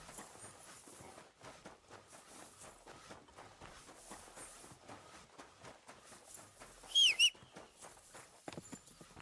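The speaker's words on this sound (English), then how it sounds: "There's a horse." Hooves clip-clop along steadily at a walking pace, fairly quiet, with a brief sharp whistle-like squeal near the end, from a horse in the video game Kingdom Come: Deliverance II.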